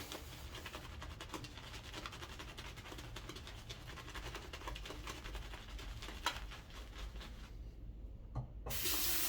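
Water runs steadily from a bathroom tap into a sink, a continuous splashing rush used for wetting a New Zenith boar shaving brush before loading Stirling soap, ending with a brief louder burst.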